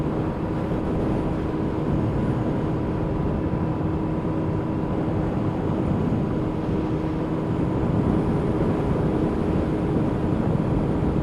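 A Yamaha RD250LC motorcycle ridden at nearly full throttle in sixth gear, a steady dense engine drone mixed with heavy wind roar, loud and unbroken throughout.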